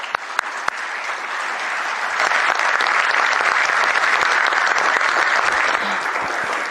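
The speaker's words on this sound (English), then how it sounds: "Give them all a big round of applause." A big round of sustained applause from a crowd, dense clapping that swells after a couple of seconds and stays loud and steady to the end.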